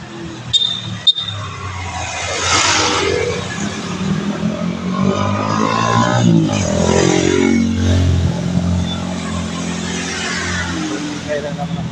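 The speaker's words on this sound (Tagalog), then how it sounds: "Ingay lang naman ang sasakyan." Car engine noise on a street in a residential village, heard as a continuous drone with a few rising swells, fairly close, while people talk over it.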